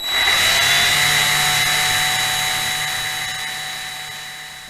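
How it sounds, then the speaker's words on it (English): A power drill whines steadily and loudly while boring and tapping a diecast model car part, a continuous high-pitched motor tone that slowly winds down in pitch. "While I get this drilled and tapped"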